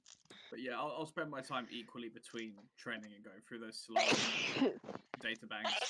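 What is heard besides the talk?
sneeze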